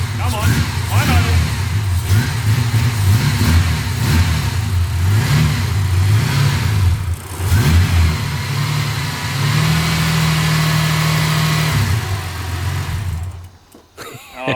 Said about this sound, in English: Now she doesn't want to start at all. Come on, fine idle.